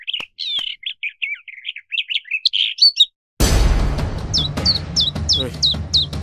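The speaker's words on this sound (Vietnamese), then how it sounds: "Cái con chim này kỳ cục nghe." A small cartoon bird chirps in quick high tweets, first alone with short pauses, then repeating over a sudden burst of louder background noise.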